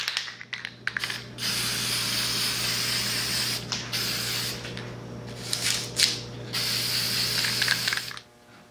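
An aerosol can sprays lacquer onto a Jolly Rancher candy casting being made into a candle holder, giving long steady hissing bursts broken by short pauses and rattles, close and loud.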